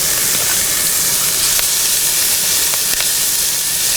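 Peppers and onions sauté in a hot pan at a camp cook, giving a loud, steady, close sizzle and hiss with no break and a few faint clicks over it.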